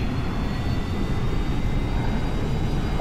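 Airliner engine noise from the flight simulator X-Plane 11 with the thrust reverser deployed on the ground: a steady, loud, broadband roar that holds even for the whole stretch, with no talk.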